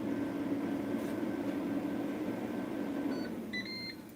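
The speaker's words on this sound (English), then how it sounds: "That's the sound of the air fryer telling me it's ready." A short series of electronic beeps from an air fryer signalling it is ready, near the end, over a steady hum of appliance or fan noise.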